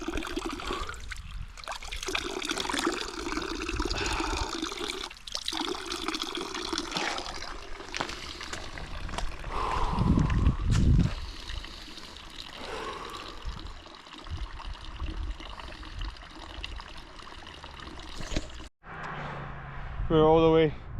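Running mountain water trickles and splashes steadily outdoors while people talk over it, with a louder gush near the middle.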